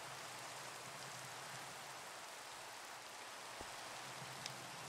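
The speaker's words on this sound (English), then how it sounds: "and it started raining again" Rain falls steadily in the Minecraft video game, a soft, even hiss of drops that runs the whole time at low volume.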